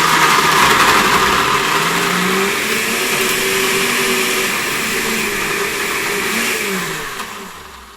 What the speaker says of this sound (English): Get our lid of our blender on and give that a nice blending.